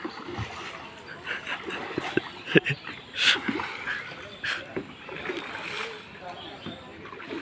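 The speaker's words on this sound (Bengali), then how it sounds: "শুরু করে দিয়েছে চালানো লম্বা একটা মানে বৈঠা মৃদুলের হাতে" A long wooden boat is rowed with a long oar on a lake at a resort, with irregular nearby splashes and water sloshing under people talking throughout.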